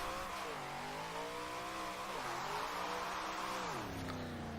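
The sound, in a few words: Dodge Charger car spinning out in video game Forza Horizon 4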